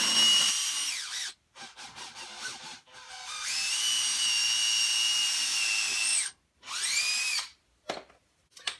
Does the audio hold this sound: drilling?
yes